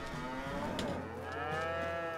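Cows moo in a farming video game, with one drawn-out, tonal low call that bends in pitch and then rises into a second, clearer moo. The mooing is close and fairly loud, with no talk.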